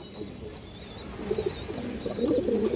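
A pair of pigeons coo close by, soft throaty rolling calls repeating and swelling toward the end, alone without talk.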